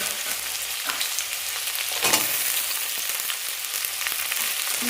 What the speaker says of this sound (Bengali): গাজর, বিট সব কিছু একসাথে দিয়ে ভালো করে ভেজে নিচ্ছি হাঁড়িটা।